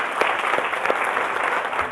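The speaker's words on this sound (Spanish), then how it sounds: "El aplauso es para Dios," A church congregation claps together in a full, even burst of applause, a brief continuous wash of many hands without talk.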